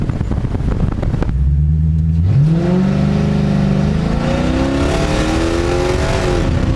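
A Hemi V8 swapped into a body-swapped Dodge revs under throttle, a loud deep rumble climbing steadily in pitch from close by, with a short rise-and-hold and no talking.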